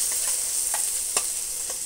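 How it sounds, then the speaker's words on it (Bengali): Ghetkol leaf paste fries in oil with onion and spices, a steady close sizzle broken by a few light stirring scrapes and taps, with no talk. "এবার এই মশলার সঙ্গে পাতাটা বেশ ভালো করে ভাজা ভাজা করে নেব"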